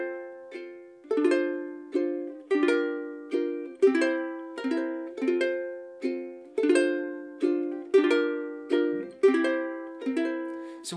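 Stringed instrument played with the thumb in a ballad, plucking steady repeating arpeggios over a chord progression, each note ringing clearly in an even rhythm, solo with no voices.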